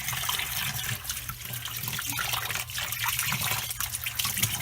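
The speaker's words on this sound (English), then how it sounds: "I'm going to turn on the cold and a little bit of the hot, not too much." Lukewarm water runs steadily from a sink tap for washing a 1998 Furby skin, a continuous close rushing stream with no talking.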